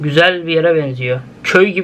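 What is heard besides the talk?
No everyday noise stands out behind the speech.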